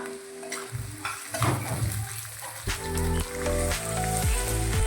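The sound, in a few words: tomato and green chilli frying with onion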